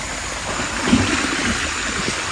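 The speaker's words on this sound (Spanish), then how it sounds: "Dice que va a regar el agua que está en la palangana porque está sucio." Dirty water splashes out of a basin onto the ground, a steady rushing pour lasting a couple of seconds with a slight surge midway.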